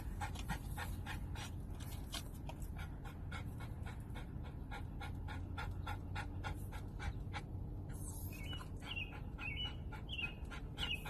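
A dog pants steadily on a neighborhood walk, rapid rhythmic breaths running through the whole stretch, with birds calling nearby toward the end.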